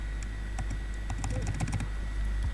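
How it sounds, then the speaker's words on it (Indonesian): Light, quick clicks of typing on a computer keyboard sound close but quiet over a steady low hum, with an uneven rhythm of keystrokes throughout. "kita coba ketik"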